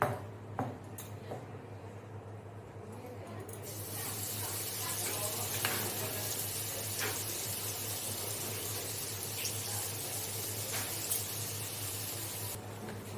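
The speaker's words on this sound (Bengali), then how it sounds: "4 মগজ, টমেটো, কাঁচা লঙ্কা আর সাদা সর্ষে দিয়ে আমি একটা পেস্ট তৈরি করে নিয়েছি, সেটা আমি এর মধ্যে দিয়ে দেবো" A paste of tomato, green chili and white mustard hits a hot pan and sizzles loudly, a steady hiss of frying that stays constant with small spits and crackles.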